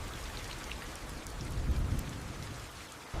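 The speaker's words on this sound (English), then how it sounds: "Heavy rain pours down on the prairie, flooding the temporary hide shelters." Heavy rain pouring down on a prairie, a dense steady hiss of falling drops with a low rumble swelling midway, continuous and without voices.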